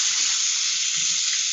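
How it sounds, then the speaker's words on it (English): Tap water runs steadily through the middle of a halved head of organic romaine lettuce, a close, even rushing and splashing with no voices. "I just run water through the middle of"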